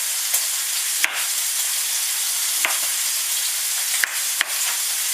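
Bacon sizzles hard in a fry pan on high heat, a steady dense crackling hiss with a few sharp clicks and pops of utensils scattered through, loud and close with no talking.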